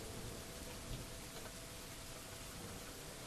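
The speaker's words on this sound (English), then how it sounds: "Oh, yes, lots of rain. Always lots of rain." Steady rain in Dwarf Fortress, a dense even hiss of falling drops that stays constant throughout, quiet and broad with no breaks.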